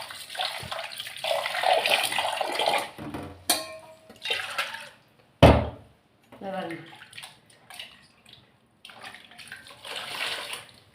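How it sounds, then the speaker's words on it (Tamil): Water mixed with tamarind pours and splashes into a pot in an irregular stream, stopping and starting, with a sharp clatter partway through. "இதில் கொஞ்சம் தண்ணி கலந்து ஊற்றிக்கலாம்."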